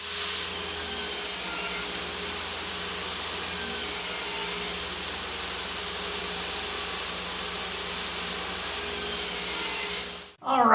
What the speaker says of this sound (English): we have to cut this piece into furring strips